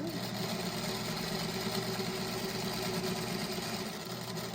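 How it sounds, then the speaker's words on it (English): A sewing machine stitches a scarecrow quilt block, giving a steady close mechanical hum and rapid needle whir that runs evenly without pause, and no one speaks. "And then I'm just sewing all the way."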